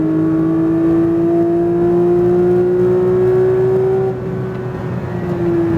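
A Porsche 992 GT3 at full throttle on a track gives a loud, sustained engine drone whose pitch climbs steadily, then dips briefly as it shifts, heard from inside with no talk.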